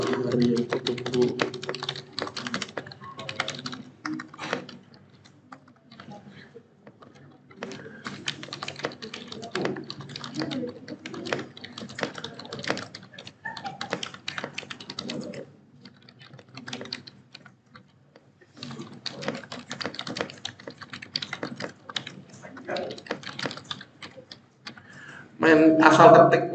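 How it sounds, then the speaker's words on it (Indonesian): Keys on a computer keyboard clatter in quick irregular bursts, pausing briefly between runs, fairly close and moderately loud, with a louder burst near the end. "kita ketik di sini"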